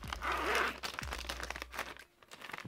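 Zippered Ecopak dry bags from Hilltop Packs crinkle and rustle softly as they are handled, a quiet burst of crisp crackling that fades to near silence near the end.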